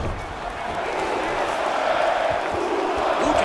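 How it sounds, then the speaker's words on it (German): Crowd cheering and roaring for fighter Antonio Silva in the UFC 2 video game, a steady, loud arena din that swells slightly over a few seconds, with game commentary running over it. "Anfeuerung aus dem Publikum für Antonio Silva"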